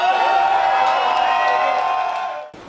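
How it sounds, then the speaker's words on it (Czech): An outdoor crowd at a small music festival in a garden venue claps and cheers loudly for a few seconds, with some whoops mixed in, before it cuts off abruptly. "A od vás pro něj potlesk."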